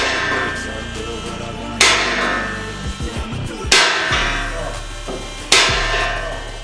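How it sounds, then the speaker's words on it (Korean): Sledgehammer blows driving a steel H-beam into position on a construction site, three sharp metallic strikes spaced about two seconds apart, with faint clatter and background noise between them. "보 부분을 들어주고 시공대 위치에 넣어줄 때는 슬래지 해머를 사용해 넣어줍니다."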